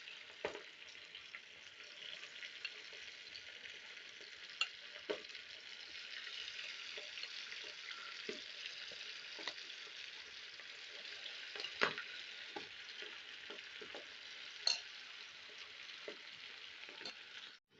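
Pieces of beef boti for chatkhara boti sizzle steadily in hot oil, a continuous bright frying crackle with scattered sharper pops and spatters throughout, no talking.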